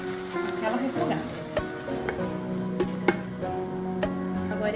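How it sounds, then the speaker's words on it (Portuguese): Chicken sizzles and sautés in a covered pan, with a steady frying hiss and scattered small pops and crackles, close and moderately loud, with no voices. "Agora eu vou tampar a panela e vou deixar ele dar aquela refogada."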